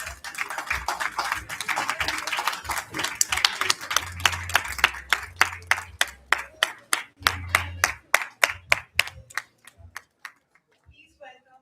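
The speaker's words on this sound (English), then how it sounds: "A warm round of applause to her." Audience applause at a corporate town hall, a dense burst of many hands clapping loudly that gradually thins into scattered, slowing claps and fades out.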